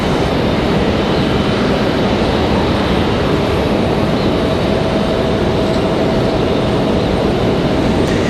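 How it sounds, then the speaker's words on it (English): A Copa Airlines airliner taxis out toward the end of the runway at Raleigh-Durham International for departure to Panama City, its engines a loud, steady broadband roar with no break and no talking. "Copa making their way out to the end of the runway for their departure back to Panama City"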